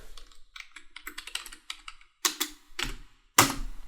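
Quick, light keystrokes tap on a computer keyboard in a close, quiet room, coming in short irregular bursts with brief pauses and a few louder, sharper key presses.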